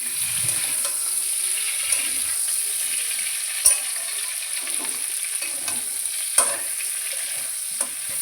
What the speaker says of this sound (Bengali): তো দেখো ফুলকপি আলু আমরা একসঙ্গে কিন্তু ভাজা ভাজা করে নিচ্ছি।